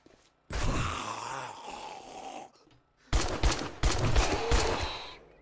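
Gunfire in the zombie survival video game 7 Days to Die, heard as sustained bursts of shooting in two loud stretches separated by a short gap, with no talk.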